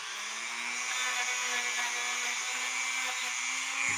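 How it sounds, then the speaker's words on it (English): A Dremel rotary tool fitted with a wire brush cleans the pivots of a Kuner shadow box cuckoo clock, giving a steady high whirring hiss with a faint low hum, constant and close. "Now I have a wire brush in my Dremel, and I'm going to take this wire brush to the pivots and to the burge assembly itself"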